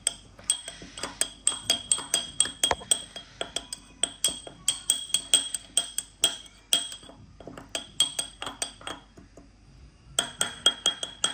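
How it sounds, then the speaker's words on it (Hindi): Metal spoon clinking rapidly against a bowl while lemon juice is mixed into a spice mixture, a steady run of sharp, bright taps and scrapes at close range with brief pauses, no voices. "एक चम्मच नींबू का रस डाल के इसे हम अच्छी तरह मिक्स कर लेंगे"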